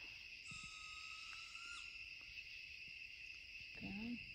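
Owl calling at night in New York woods along the Appalachian Trail, a single steady whistled note lasting over a second, moderately distant, over a constant shrill chorus of crickets and insects.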